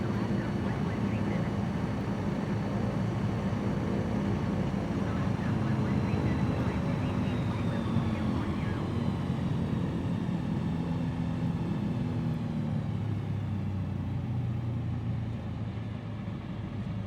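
Small single-engine airplane in Microsoft Flight Simulator 2020 drones steadily at throttle during a low approach, a loud continuous engine rumble with a slowly shifting pitch throughout.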